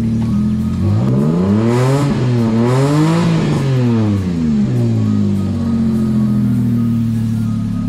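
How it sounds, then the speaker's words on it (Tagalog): A small Multicab E6 engine runs close by, its pitch sweeping up and down as it is revved, then settling back to a steady idle. "So ganda ng andar ng ating makina."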